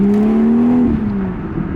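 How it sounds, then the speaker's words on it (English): A BMW 440i fitted with an M Performance exhaust and a resonator delete accelerates hard, its loud engine note rising steadily in pitch before easing off into a lower drone. "It has the M Performance exhaust, so it sounds amazing."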